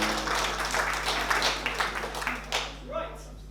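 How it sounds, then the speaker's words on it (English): A theatre audience gives a round of applause at an amateur stage show, scattered clapping under a low electrical hum that thins and fades out toward the end, with a voice heard briefly near the close. "Round of applause, ladies and gentlemen."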